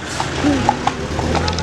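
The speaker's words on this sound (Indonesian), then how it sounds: "kami tuh berdua naik kuda" A horse ridden by two people at the Berastagi fruit market, its hooves clip-clopping in a quick run of close, distinct knocks while people talk over it nearby.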